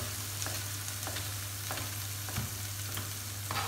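Ground beef patties fry in a pan with a steady close sizzle, punctuated by several soft scraping stirs of a utensil every second or so.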